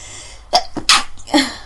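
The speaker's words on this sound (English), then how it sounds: "Oh, I'm going to sneeze." A person sneezes with a quick gasping intake followed by a forceful burst, then a brief second exhale or sniff; close and fairly loud.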